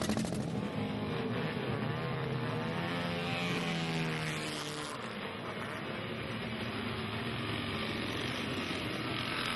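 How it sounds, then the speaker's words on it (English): Vintage motorcycle climbing the Test Hill at Brooklands, its engine note rising and falling as a steady, loud drone that holds through the whole stretch with no talk over it. "And here's John Spear heading up to Test Hill."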